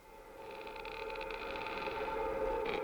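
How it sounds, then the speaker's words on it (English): A sample run through hybrid reverb, producing an eerie, creaking door-like texture: a steady washed-out drone with shimmering upper noise that slowly swells louder, with no talking. "Some sort of a spooky crackling door."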